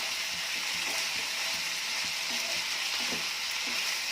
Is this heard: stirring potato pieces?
yes